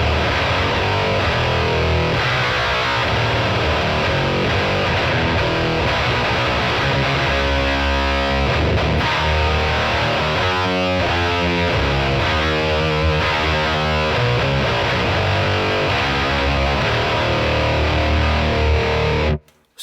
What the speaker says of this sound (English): He's got the fuzz on here with these settings. He's got the compressor going. He's got the octaver going.